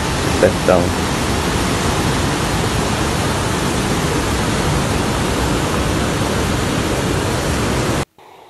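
Rain-fed floodwater pouring over the Oiticica dam spillway on the Piranhas River roars as a loud, dense, continuous rush that fills the scene until it cuts off abruptly near the end.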